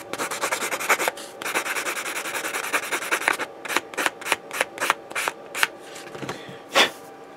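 Fine-grit sandpaper rubs a plastic Gundam model part, first as a continuous scratchy rasp, then as a series of short, distinct back-and-forth strokes close up.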